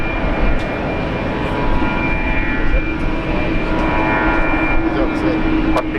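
Velocity aircraft taking off from runway 19 right at Brisbane Airport: a steady, broad engine roar fills the whole span at high, even loudness, with faint background tones and no talk over it.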